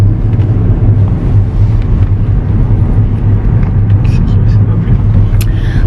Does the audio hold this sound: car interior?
yes